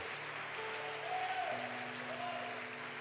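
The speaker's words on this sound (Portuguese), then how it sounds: "Pode aplaudir a ele, se é para ele, aplauda ele." A church congregation applauds in a steady, dense wash of clapping that holds evenly for a few seconds, with faint sustained musical tones underneath.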